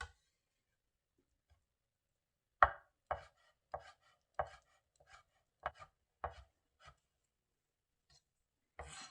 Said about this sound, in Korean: 짧은 쪽을 이렇게 눕혀서 이렇게 지그시 눌러서 이렇게 얇게 포를 뜨세요